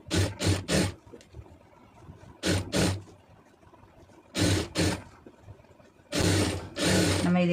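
Sewing machine stitching thread piping onto fabric, running in short loud bursts of rapid mechanical whirring separated by quieter pauses, ending in a longer sustained run.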